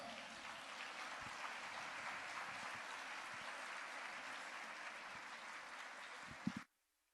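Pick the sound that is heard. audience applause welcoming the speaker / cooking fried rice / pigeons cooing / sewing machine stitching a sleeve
audience applause welcoming the speaker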